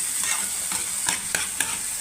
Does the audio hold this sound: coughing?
no